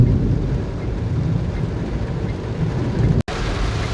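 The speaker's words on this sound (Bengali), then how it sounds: "চরম বৃষ্টি হচ্ছে" Heavy rain pours in Jeddah, Saudi Arabia, a steady, dense roar that holds unbroken for a few seconds, cut by one very brief dropout near the end.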